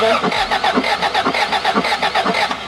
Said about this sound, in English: Turn the car over